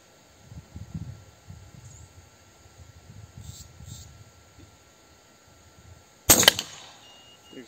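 A murmuring voice and low rustling come before one sharp, close crack of a URKO III bullpup air rifle with a Cano M22 barrel firing a slug, followed by a brief tail.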